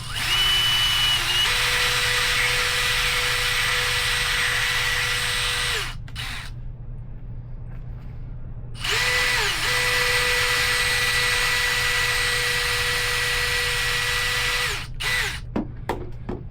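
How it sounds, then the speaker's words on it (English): A power drill bores through a Vans T2 necklace piece in two long, loud, steady whining runs, the pitch dipping and settling as the bit bites, separated by a short quiet gap, then brief stop-start bursts. "I'm just going to drill it some more"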